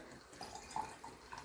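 Tap water runs into a jar of fermenting grain to top it up, a faint trickle with soft gurgles and small splashy plinks against a quiet hiss.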